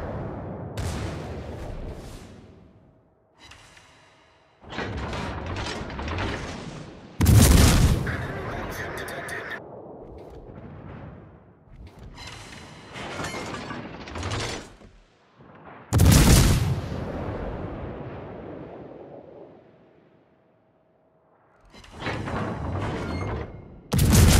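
Artillery fire on a target in a video game: two heavy, sharp booms about eight seconds apart, loud and close, each trailing into a rolling rumble over mechanical noise and distant shots.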